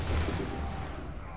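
A volley of musket fire rings out in Assassin's Creed III, set at the battle of Lexington and Concord. It is a dense, booming burst that rolls away over about a second and a half.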